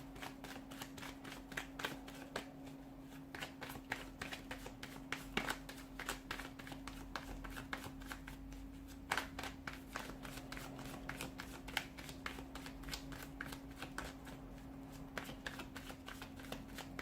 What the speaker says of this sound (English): Let's give the cards a shuffle and begin